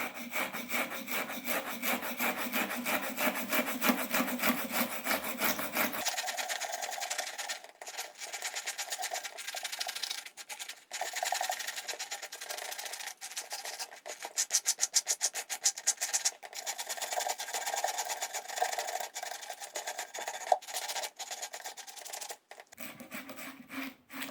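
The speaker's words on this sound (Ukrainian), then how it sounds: "притримуємо голову, беремо щіткою і починаємо чищати" A brush scrapes the scales off a perch on a board in rapid rasping back-and-forth strokes, steady and close, with brief pauses between bursts.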